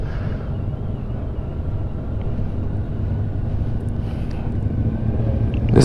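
A 2021 Honda Goldwing DCT motorcycle under way, its engine a steady low drone mixed with wind rush that grows slightly louder near the end, with no distinct shift clunk standing out.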